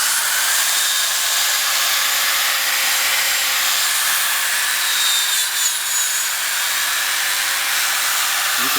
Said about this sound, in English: You can see some of that dry clear coat already being taken off by this 500 grit sandpaper.